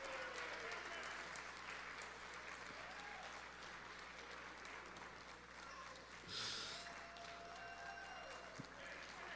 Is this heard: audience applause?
yes